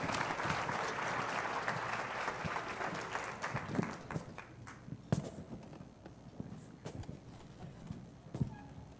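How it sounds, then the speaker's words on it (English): Applause from an annual meeting audience, dense clapping that fades and breaks into scattered individual claps, heard at a moderate distance in a large room. "Let's give one more round of applause."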